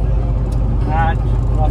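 A Force Gurkha BS6 SUV cruises on the highway at about 100 km/h in fifth gear near 2300–2400 rpm, its low, steady engine and road drone running beneath a person talking.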